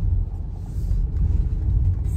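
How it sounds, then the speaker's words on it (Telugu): Heavy car traffic idling and creeping along in a queue for fireworks parking in Greenwood, Indiana, a steady low rumble of engines close by with no pauses. "ఫుల్ ట్రాఫిక్, జనాలు అందరూ వెయిట్ చేస్తున్నారు."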